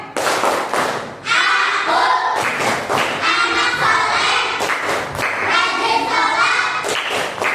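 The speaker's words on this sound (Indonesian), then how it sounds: "Nah, satu lagi. Tepuk anak soleh" Group chant-clapping of 'tepuk anak soleh' in an ice-breaker session: punchy rhythmic claps in patterned bursts interleaved with voices chanting the lines together, loud and close.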